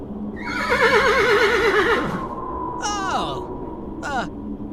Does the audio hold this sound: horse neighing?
yes